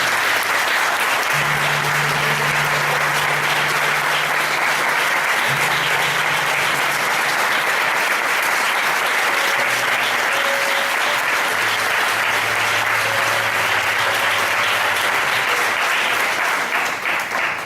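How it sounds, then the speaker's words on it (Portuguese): A church congregation breaks into loud, sustained applause, a dense wash of clapping lasting the whole stretch, with faint voices and a low held tone beneath it. "Dê uma salva de palmas muito forte"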